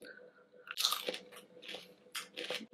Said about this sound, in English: I'm going to have the crunchy ume plums.